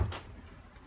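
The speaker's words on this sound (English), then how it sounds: "Now my doors are slamming in my house from the wind." Doors slamming shut inside a house as the wind blows them: a single dull, heavy thump right at the start, then only faint room noise.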